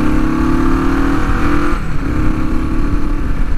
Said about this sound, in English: some people just say parallel twins are just boring sounding engines